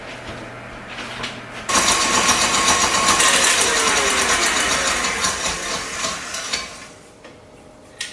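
An electric mixer whipping egg whites with sugar switches on abruptly to a loud, steady whirring drone that eases off and stops near the end, after a quieter lead-in, with no speech.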